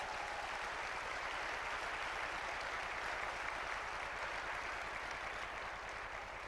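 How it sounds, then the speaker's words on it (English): An audience at an MLK breakfast event applauds in a dense, steady wash of clapping that holds at an even level for several seconds, with no talk over it. "Give us a round of applause for that."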